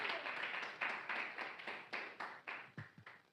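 Church congregation during a Portuguese-language sermon claps in a steady rhythm, a faint, distant, dense patter with regular stronger beats that grow more separated toward the end.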